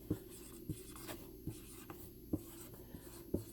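A pen writes on paper, producing faint, close scratching strokes punctuated by light taps at an uneven rhythm, with no other sound.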